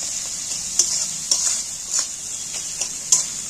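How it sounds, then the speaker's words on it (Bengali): Steady frying sizzle of spice masala being stir-fried for fish roe curry, with a spatula scraping the pan every half second or so, close by, no voices. "এখানে মশলাটা এখনো কষা হয়নি একটু আরও করতে হবে"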